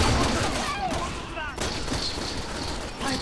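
Dense, continuous gunfire and explosions from the video game Resident Evil 6 fill the clip loudly, with layered bursts and booms that barely let up.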